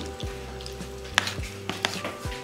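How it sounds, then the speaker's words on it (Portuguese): A spoon stirring a colorful gelatin dessert, with rhythmic scraping and a few sharp clinks against the bowl, close and clear with no talk. "Enquanto isso eu vou mexer"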